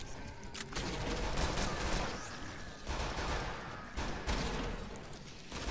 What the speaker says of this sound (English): I missed with my gun.